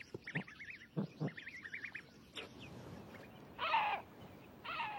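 A Eurasian eagle owl in a Scandinavian forest gives a series of deep hoots, several short calls in the first seconds followed by louder, longer hoots near the end against a quiet background.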